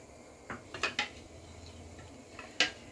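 Dry milk and sugar are stirred into boiling milk in a cooking pot. A spoon clinks and scrapes against the pot a handful of times over a steady hiss of the boiling.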